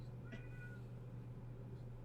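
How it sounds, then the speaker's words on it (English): An angry house cat lets out a single short, faint meow against a steady low hum of indoor background noise. "you hear my cat?"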